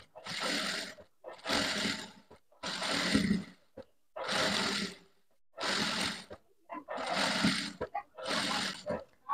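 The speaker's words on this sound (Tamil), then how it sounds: "இப்போ இந்த முனையில் வந்து தையல் போட்டு எடுத்துங்க" Sewing machine stitching along the edge of a blouse, running in about seven loud, steady bursts of whirring with short pauses between them, no talk over the stitching.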